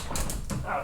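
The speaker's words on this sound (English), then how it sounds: "Dogs are barking." Dogs bark outdoors in the background, a few short yelps heard faintly.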